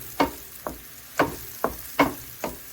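Onions and carrot frying in oil in a pan, heard as a series of about six sharp stirring scrapes against a soft sizzle, each spaced roughly half a second apart, with no one speaking.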